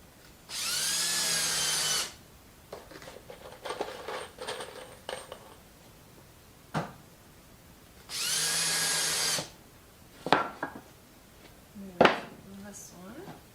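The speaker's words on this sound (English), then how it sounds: "So I'm going to start 2 screws. They're going to go in at 90 degrees." A power drill drives two screws into 2x4 lumber, two separate whirring bursts of about a second each, with clattering handling noises and light knocks between them.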